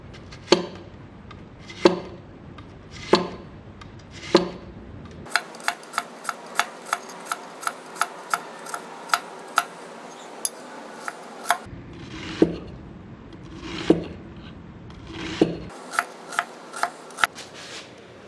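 A knife finely chopping three medium onions on a board: bursts of sharp, rapid knocks, slower spaced strikes alternating with quick runs of even taps, close and crisp with no talking.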